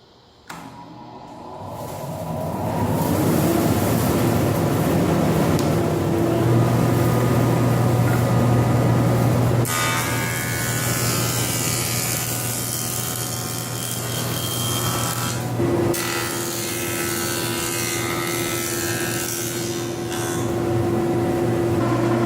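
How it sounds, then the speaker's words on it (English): A rotating power tool blade planes small amounts off wood, probably a jointer, with a loud steady motor whine and a continuous cutting hiss. The pitch shifts partway through as the load changes. "Blade rotates, and it takes off just a small amount of wood."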